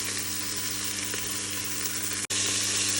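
Merguez sausages frying in a pan give off a steady, loud, dense sizzle that holds evenly, broken only by one brief dropout near the end.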